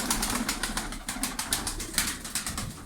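Tumbler pigeons kept in a loft give steady soft cooing and rustling, with repeated fluttering wingbeats nearby at moderate volume and no talk.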